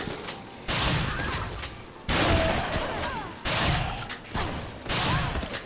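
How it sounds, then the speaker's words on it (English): Shotgun blasts in the video game Dead Rising, four loud booming shots spaced about a second apart, each with a sustained rumbling tail, close and alone with no talk. "Shotgun."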